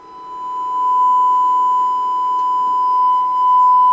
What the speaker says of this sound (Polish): I sinusoida też jest ładna